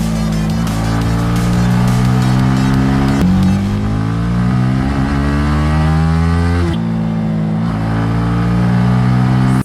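A Yamaha R15 V3 150cc motorcycle held at high speed around 120 km/h, its engine droning loud and close with rising and shifting pitch, steady throughout, no voices.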